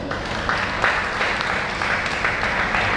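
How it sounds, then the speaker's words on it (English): Audience at a commendation service for a late prince clapping for the family's in-laws, a steady wash of applause with slight swells, fairly close and dense, no speech over it. "Please clap for them."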